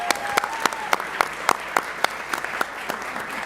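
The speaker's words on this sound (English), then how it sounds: "how about a great round of applause for Ambessa?" Applause from an evening youth entrepreneurship event audience honoring the MC, a steady clatter of many hands with sharp claps standing out, filling the room without any talk.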